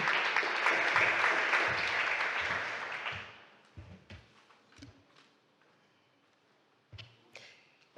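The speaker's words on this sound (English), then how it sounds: "So please give her a round of applause while you go" Conference audience applauds after a keynote announcement, a dense sustained round of clapping that fades out after about three seconds, followed by scattered small taps and knocks in a quiet hall.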